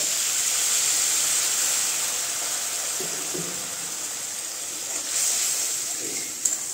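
Water poured into a hot pan of chicken with tomato sauce gives a steady, close hiss of steam that runs throughout, with a brief louder burst near the end.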